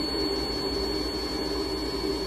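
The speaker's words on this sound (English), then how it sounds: "I'm actually in a CVAC, altitude simulation machine, for recovery." A loud, continuous mechanical roar like a jet engine from a running altitude simulation chamber fills the whole stretch, steady and unbroken, with a thin high whine riding on top.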